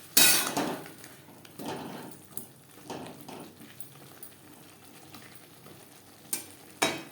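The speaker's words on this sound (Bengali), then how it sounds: "কাঁচা গন্ধ যাওয়া পর্যন্ত নাড়াচাড়া করে নেব" Turmeric and salt stirred in a pan for a potato, green banana and small fish curry, heard as scattered spatula scrapes and sharp metal clinks against the pan over a faint low sizzle.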